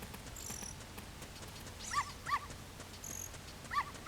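Dogs barking inside The Legend of Zelda: Ocarina of Time, near the Temple of Time, as several short, distinct yips at moderate distance. They sit over a low, steady game ambience, and no one speaks.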